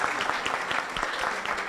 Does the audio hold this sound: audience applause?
yes